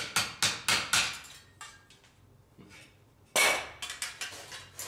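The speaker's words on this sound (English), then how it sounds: "this is just a piece of pine, you can hammer in the middle" A run of sharp, ringing metallic hammer strikes on a piece of pine at an anvil, four in quick rhythm, a pause, then a further burst of lighter blows, close and fairly loud.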